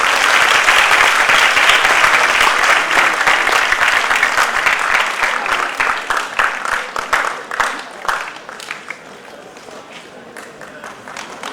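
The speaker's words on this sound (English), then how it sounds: "we welcome our dignitaries once again with a big round of applause" A large audience at a national tribal dance festival inauguration breaks into loud, sustained applause that gradually thins out and fades toward the end. A voice is heard over the clapping.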